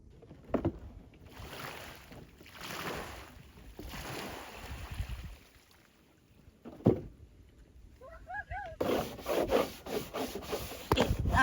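A turtle pool on an Oklahoma farm being scrubbed out: quiet, uneven rubbing strokes near by, with a few knocks, a brief chirping call and louder scrubbing toward the end.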